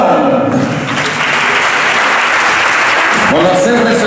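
A hall audience at a Galician swimming federation awards gala bursts into loud, sustained applause that fills the room, with a voice emerging near the end.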